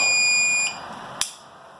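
Loud, steady high-pitched electronic beep from high-power rocket flight electronics set up for a certification flight, holding for about half a second before fading, then a short sharp click.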